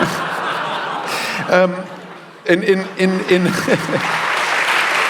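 A lecture audience applauds and chuckles, with clapping and laughter swelling in bursts amid a steady wash of applause; laughter stands out in several loud peaks.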